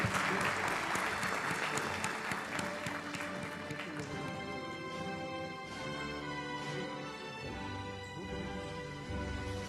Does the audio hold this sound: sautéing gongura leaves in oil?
no